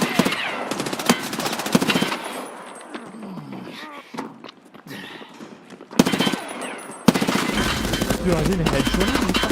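Gunfire rattles in Escape from Tarkov, sharp bursts and single shots scattered across the moment, some loud and close, others distant, mixed with footsteps and game noise while a player talks.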